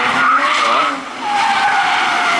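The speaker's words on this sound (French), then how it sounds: "on peut faire des baptêmes de drift en F-Type" Jaguar F-Type drifting at the Goodwood Festival of Speed, tires skidding and squealing loudly in two long smeared bursts with a short dip between, engine noise underneath.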